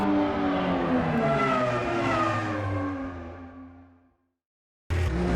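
A race car lapping Silverstone in the Automobilista 2 sim, engine droning loud and close with shifting harmonic pitch before fading out to near silence, then cutting back in abruptly at the end.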